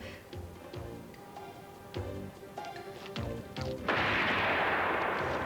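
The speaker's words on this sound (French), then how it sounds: "Un coup de feu." Several sharp gunshot-like bangs ring out at irregular intervals, followed by a sudden loud burst of noise that continues to the end.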